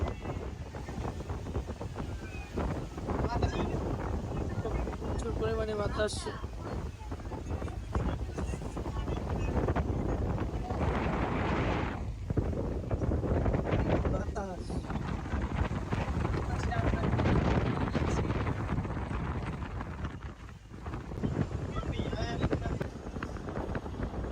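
A passenger launch cruises along a river near Chandpur, its steady engine rumble and rushing water and wind noise running continuously throughout, with a voice talking over the boat noise.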